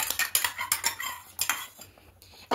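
A spoon scraping and clinking against a pot while rice is stirred with a milk paste of cashews and raisins, a quick string of close metallic strokes with no talk.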